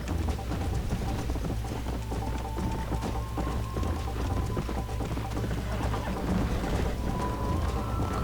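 Horse hooves galloping in the Red Dead Redemption video game, a continuous rapid clip-clop rhythm over ambient game background with faint birdsong, steady and moderately loud throughout.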